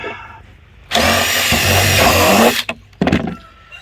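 A power tool drives nuts and bolts into plastic barrel sections for a raised bed, whirring loudly for about two seconds, then stopping, followed by a short second burst.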